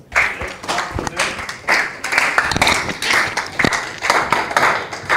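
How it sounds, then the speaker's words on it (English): An audience claps together in an unusual rhythmic pattern of repeated bursts and short pauses, loud and close, with faint talk underneath. "Oh, that's a unique way of clapping."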